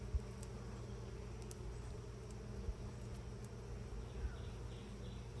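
Honeybees buzz steadily around an open hive during an inspection on a farm. The drone is low and continuous, with faint brief clicks over it.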